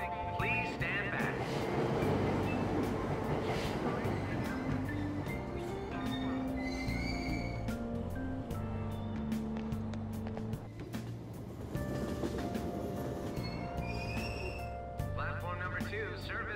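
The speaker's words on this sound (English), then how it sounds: "Train doors are now closing. Please stand back." Train pulling out of a station in Persona 5 Royal, a steady rumbling rail-car drone with wheel noise, faint station chimes and tonal music layered over it throughout.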